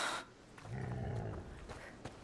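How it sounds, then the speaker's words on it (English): A pig in the video game A Plague Tale: Requiem lets out a low, rough grunting snort that rumbles for about a second, close and fairly soft, amid faint in-game ambience. "That was a pig."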